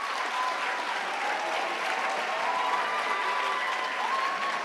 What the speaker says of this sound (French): Applaudissez-le, bien sûr.